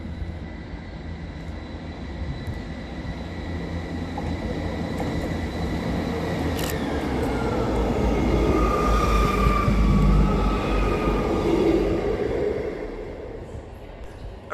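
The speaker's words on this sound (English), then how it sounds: "Passing through the station is 158739, working 5 Golf 35 from Edinburgh Haymarket Depot to Edinburgh Waverley." Class 158 diesel unit 158739 runs through Edinburgh Haymarket station on an empty stock move from the depot to Waverley, a continuous rumbling roar that swells toward the middle with a brief high squeal, then eases away.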